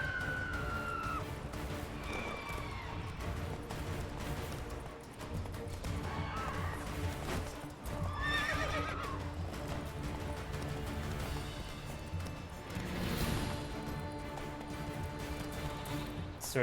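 Roach the horse neighing and whinnying in The Witcher game, several rising whinnies with clip-clopping hooves and other game sounds, moderately close, with no speech.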